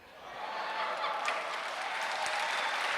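Audience applause fills a hall after a manufacturing competition result is announced: steady, dense clapping from a large crowd throughout, fairly close and even, with no talk over it.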